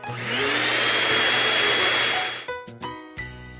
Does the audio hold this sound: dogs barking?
no